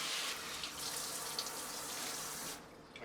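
Turkey breast pieces rinsed under a running kitchen tap, a steady close hiss of water splashing in the sink that thins out near the end, with no voices.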